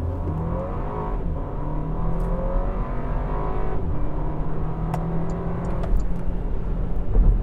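Porsche Macan standard model (no sports exhaust) accelerating hard from a standstill, a steady close engine drone with rising harmonic pitch bands and muted tone, continuous without any talk throughout.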